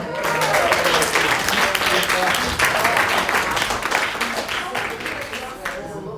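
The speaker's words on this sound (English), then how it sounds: "give a rapturous round of applause" A wedding reception crowd applauds with steady, dense clapping that fades slightly toward the end.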